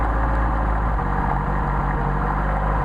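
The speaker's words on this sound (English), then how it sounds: "Let's see what we can do about the idle speed here" Mercedes 190SL engine idling with Solex carburetors: a steady, loud, low rumbling idle, close up and unbroken, with no one talking.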